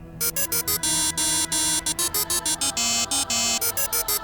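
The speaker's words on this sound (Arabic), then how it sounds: "وهنا سمعت صوت رن تليفوني" A phone ringtone plays a bright electronic melody of short repeated tones, loud and close, with no voices over it.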